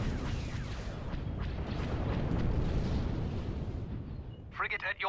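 Ship weapons in a Star Wars space strategy game fire in a dense, rumbling barrage of booming blasts, and a short game voice line follows as it fades.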